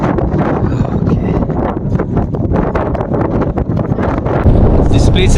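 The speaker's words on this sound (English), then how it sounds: "This place is very windy." Strong gusts at a foggy mountain viewpoint in Coorg buffet the microphone with loud, continuous rushing and roaring noise that swells and dips throughout.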